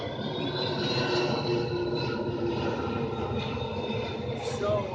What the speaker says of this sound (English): plane fly over. It's kind of